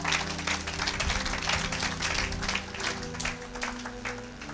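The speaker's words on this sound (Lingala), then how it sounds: "Acclamons pour la gloire de notre Dieu et de notre roi" A church congregation applauding, a dense sustained patter of many hands clapping at steady loudness over a low backing hum, with a faint voice underneath.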